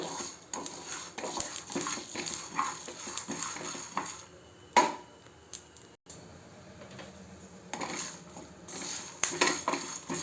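Ivy gourd fries in a pan while a metal spoon stirs it, making repeated clinking and scraping strokes against the pan over a soft frying hiss, with a brief pause partway through.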